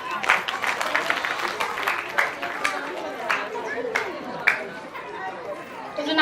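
Scattered clapping and crowd chatter rise for a little girl at a preschool annual day event, light uneven applause mixed with voices, and an adult speaks over it.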